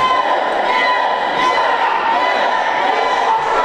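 Dense wrestling crowd noise at an independent event, a steady roar of many voices that fits a mocking "chicken" chant aimed at a wrestler, loud and continuous throughout.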